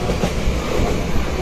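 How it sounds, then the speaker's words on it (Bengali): A metro train runs past with a loud, close rumble and rail clatter, filling the whole brief moment without a pause. "যাচ্ছে মেট্রো।"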